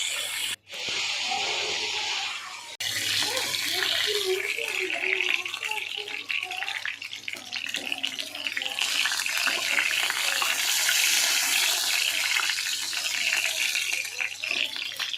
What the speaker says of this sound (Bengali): তারপর সেগুলোকে নাড়াচাড়া করে ভেজে তুলে নিতে হবে